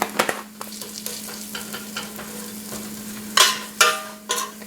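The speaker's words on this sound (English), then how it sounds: "And stir it around in the oil. And let that saute in." Garlic and oregano sautéing in olive oil for Italian-style zucchini noodles, a soft crackle broken by spoon scrapes and a few louder stirring bursts near the end, over a low steady hum.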